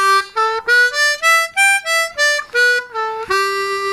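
Harmonica in second position runs a major pentatonic scale, about a dozen distinct bright reedy notes stepping up and back down in an even rhythm, close and clear with no talk.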